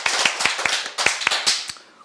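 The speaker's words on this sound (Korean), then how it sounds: "우리 하나님께 감사의 박수 올리겠습니다." Hands clap in a church congregation, a close group giving sharp claps at a quick, fairly even rhythm for about two seconds before they fade out.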